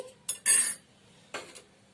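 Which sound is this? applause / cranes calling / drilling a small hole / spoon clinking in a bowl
spoon clinking in a bowl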